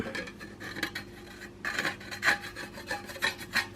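A hand file rasps across a soft MIG weld on a steel car body panel, short irregular strokes repeating close up, with no talk.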